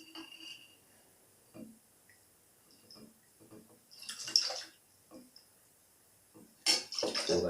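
Low-alcohol gin poured into a cocktail shaker: two short splashing bursts of liquid, close and fairly clear, separated by quiet handling sounds.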